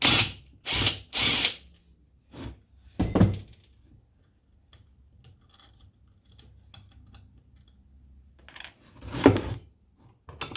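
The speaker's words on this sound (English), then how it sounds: "So what we'll do, we'll pull that nut off the flywheel." A nut is worked off an engine flywheel with hand tools in a quiet workshop, several short sharp metallic clicks and ratcheting bursts separated by pauses, close and fairly faint.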